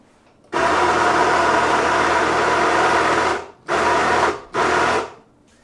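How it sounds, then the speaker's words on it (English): A coffee grinder set to a coarser grind crunches through beans in one loud, close, continuous run of about three seconds, followed by two short bursts and then silence. "go coarser on the grinder until the clumps start to chill out"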